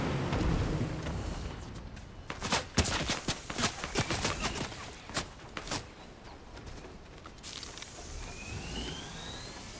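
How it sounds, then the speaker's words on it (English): Scattered gunshots from a video game ring out in an irregular burst of sharp cracks over a steady background hum, loud in the middle and thinning toward the end. "I heard shooting, yeah."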